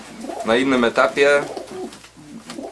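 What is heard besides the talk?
young pigeons cooing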